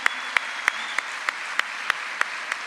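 At a panel on mental health, clapping comes through as evenly spaced, crisp single claps in a steady rhythm over a quiet, hissy room.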